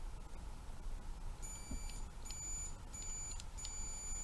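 Repeated electronic beeps from a continuity tester on the relay points of a 1972 Bally Fireball pinball machine, three short high tones in a row over low background hum, faint and close.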